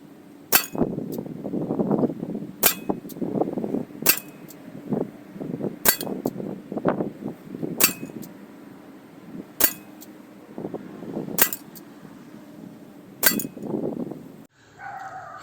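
A CO2 revolver fires at a target ten yards away: about eight sharp, crisp cracks at a fairly even pace, roughly one every two seconds, with softer shuffling and handling noise in between.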